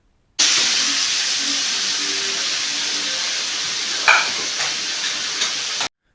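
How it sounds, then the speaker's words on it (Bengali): Boiled ash gourd is stirred into fried spices in a pan, a steady close sizzling hiss with a few scraping clinks of the spoon toward the end, loud and without talk. "আগে থেকে সেদ্ধ করে রাখা চাল কুমড়োটা দিয়ে দিতে হবে, দিয়ে ভালো করে অনবরত নাড়তে হবে।"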